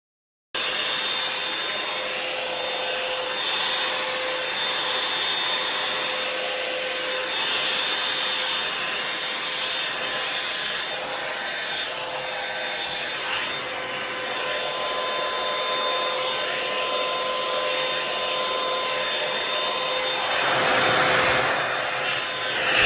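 A hair dryer blows steadily and close by while hair is brushed during an at-home routine, its even whooshing hum continuing for the whole stretch with slight swells and a brief louder rush near the end.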